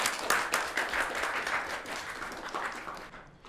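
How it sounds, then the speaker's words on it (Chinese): Soft, steady applause from an indoor gathering of colleagues welcoming a new vice president, a continuous patter of many hands clapping at moderate distance that fades out near the end. "现在让我们以热烈的掌声，请方副总为我们讲几句话"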